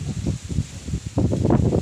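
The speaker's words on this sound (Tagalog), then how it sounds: "Sobrang lakas ng hangin dito guys." Strong mountain wind: low rumbling gusts buffet the microphone, with rustling foliage of garden plants surging louder toward the end; no one speaks.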